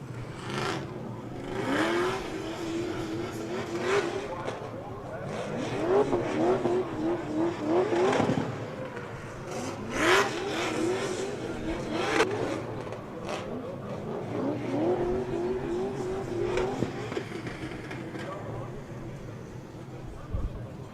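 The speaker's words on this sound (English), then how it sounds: "The gray Nissan 240SX. That LS3 with about 450 horsepower" A gray Nissan 240SX with a roughly 450-horsepower LS3 V8 drifts in a Top 32 competition at LS Fest West, its engine roaring and revving in repeated surges with tire noise, under continuous commentary.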